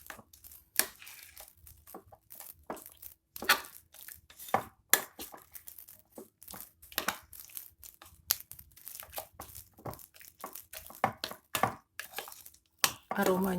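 Dough for cheese and fermented-cassava balls being stirred in a bowl, sticky scraping and slapping strokes at an irregular pace, close up, with a voice talking between strokes.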